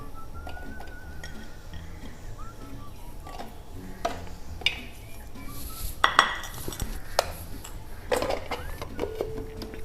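A manual hand chopper works through a load of garlic in a kitchen, giving repeated clattering, clicking plastic-and-blade knocks with a few sharper louder clacks, fairly close and steady over the whole stretch.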